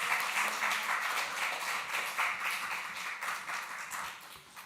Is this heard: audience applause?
yes